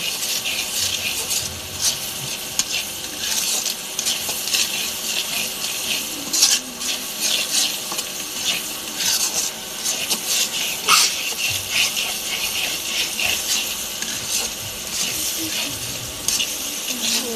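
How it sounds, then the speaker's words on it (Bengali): A spice paste sautéing in oil in a pan before fish goes in, with a continuous sizzle broken by repeated scraping stirs and occasional utensil clinks over a long stretch. "ভালো মতো কষিয়ে তারপরে মাছ দিব"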